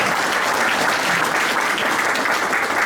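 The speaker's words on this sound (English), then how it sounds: "So let's give a round of applause, Frank, RJ." An audience at a Cleveland Browns front-office event claps steadily and loudly, a dense even wash of applause that lasts the whole stretch without talk.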